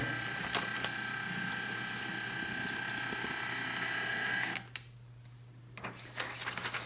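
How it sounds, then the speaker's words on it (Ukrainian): A steady mechanical whir of the thermal printer in a faulty GE MAC 1600 ECG machine runs for several seconds, with faint ticks, then stops abruptly, leaving a quiet room with a few soft clicks. "що можна принтер перевірити"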